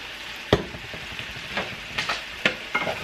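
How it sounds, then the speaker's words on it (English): Yellow squash with baby bella mushrooms, onions and tomatoes sautéing in a pan, a soft steady sizzle broken by a few sharp clanks of a utensil stirring and scraping, close and alone without talk. "we're just going to saute this up until my squash is to the consistency that I like"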